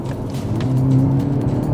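A Mercedes-AMG C 43 with a 48-volt mild-hybrid boost accelerates as the pedal is pressed, its engine giving a steady, loud, close drone that rises slightly in pitch over a short stretch without talk.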